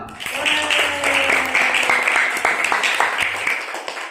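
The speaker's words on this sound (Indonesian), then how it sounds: "tepuk tangan buat Arta." An audience claps for a child preacher at a Ramadan children's dai competition, a dense run of applause with some distinct individual claps, close and fairly loud, with a faint voice in the background.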